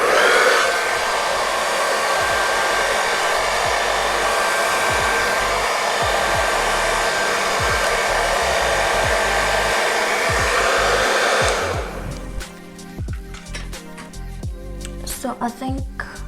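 A hair dryer blow-dries natural 4c hair, a loud, steady blowing roar that runs continuously for most of the clip before cutting off, leaving fainter handling noises and soft rustling behind.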